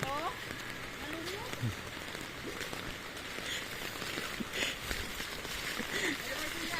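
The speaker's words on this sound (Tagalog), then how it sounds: "Saglit lang may ulan pero malakas." Heavy rain pours down in a continuous wash of noise during sudden flooding of houses, with water splashing and voices talking faintly in the background.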